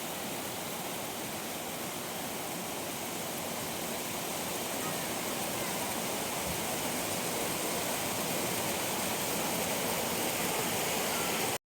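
Thusharagiri waterfalls near Kozhikode roar as a dense, steady wash of falling water, loud and unbroken throughout without distinct voices.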